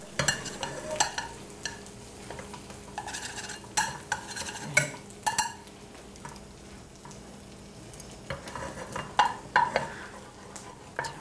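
Soft sizzling of butter melting in a pot, with a spoon stirring and scraping in scattered bursts, close by and fairly quiet, no talking.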